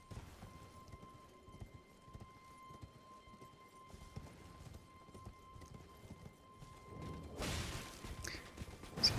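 Torrent, the spectral horse in Elden Ring, gallops with soft, rapid hoof clip-clops over a low ambient game bed, ending in a louder burst of wind-like noise.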